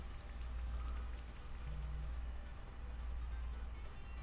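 Rain falls steadily throughout in a Pokémon video game battle after the Rain Dance move is used, a soft continuous patter with a low hum beneath and no voices.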